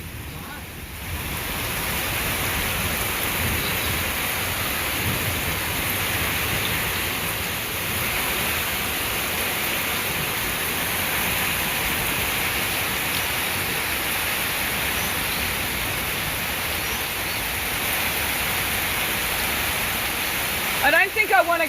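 Heavy thunderstorm rain in Victoria, Australia, a steady dense roar of downpour that runs without pause, close and loud, with a brief clatter near the end.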